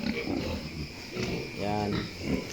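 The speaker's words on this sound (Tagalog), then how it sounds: "Ito yung mga baboy guys na pangbinta na." Pigs being raised for sale on a Philippine farm grunt and squeal in a pen, close and fairly loud, with a brief harmonic squeal standing out among ongoing grunting and mixed with people talking.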